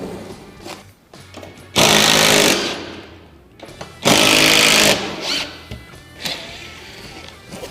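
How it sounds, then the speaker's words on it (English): A Phillips power driver backs drywall screws out of the wooden shipping crate of a motorcycle lift, giving two loud whirring bursts of about a second each, with quieter clunks and handling noise between them. "They're pretty low tech, but everyone's got a Phillips driver."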